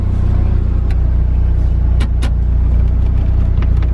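A Volvo S40 engine idles close by, giving a loud, steady low rumble with a few faint clicks on top.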